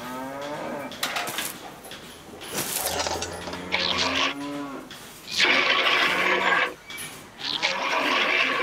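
Cows moo repeatedly during milking on a farm, loud, drawn-out bellows following one another with brief gaps, close and filling the clip with no talk.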